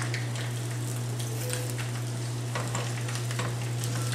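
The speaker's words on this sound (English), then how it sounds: "A touch of olive oil in this pan. There we go. And I'm going to start the sausage cooking." Sausage frying in olive oil in a pan, a loud, even, close hiss of sizzling with light crackles over a steady low hum, continuous throughout with no voices.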